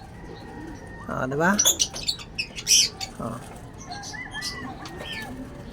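Pet birds coo and chirp nearby after a sand bath, with a brief flurry of wing flaps and scattered calls over a faint background hiss, and a voice speaks once briefly.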